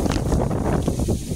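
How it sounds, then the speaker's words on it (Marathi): Strong wind blows across an open farm, buffeting the microphone with a steady, loud, rumbling roar that barely lets up, and no one speaks. "और इधर वारा खूब छूटा है"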